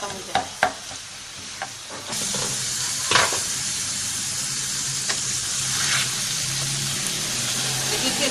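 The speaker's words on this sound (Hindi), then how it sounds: "अच्छे से इसकी बुनाई करेंगे।" A pot of turnip, spinach and mutton curry sizzles steadily while being stirred, with a few sharp scrapes and clanks of a spoon against the pot over a continuous frying hiss.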